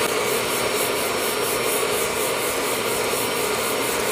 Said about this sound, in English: When sanding, you want to keep your block flat and block in an X or crosshatch pattern.